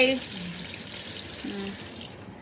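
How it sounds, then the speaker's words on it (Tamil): Water pours and splashes steadily into a sink as it is drained from cooked noodles, with brief murmured voices at the start and partway through. "தண்ணி வடி"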